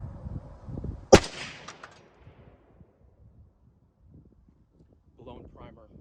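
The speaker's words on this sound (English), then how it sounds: "Here's the first shot." BCA AR10 rifle chambered in 22.250 fires one sharp, loud shot, a single crack followed by a brief fading echo. Quiet rustling and faint voices surround it.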